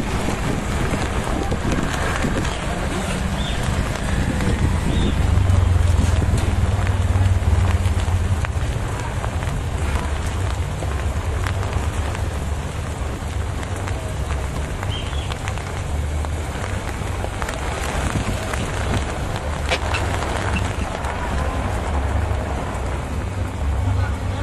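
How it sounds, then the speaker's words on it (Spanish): Torrential downpour in Soledad, near Barranquilla, a steady, dense roar of heavy rain on surfaces with wind noise and a low rumble, continuous and loud throughout. "Torrencial aguacero en el municipio de Soledad."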